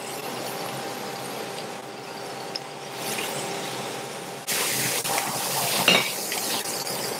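Filet mignon searing in a very hot frying pan, a steady broadband sizzle that jumps louder midway, with occasional clinks of utensils against the pan.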